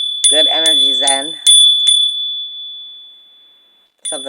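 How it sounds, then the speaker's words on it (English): A small bell struck before a Taurus tarot reading rings out several times during brief talk, then its bright tone fades away slowly into silence before another strike. "Gotta hit the bell."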